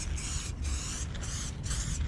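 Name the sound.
spray paint can sprayed with a fat cap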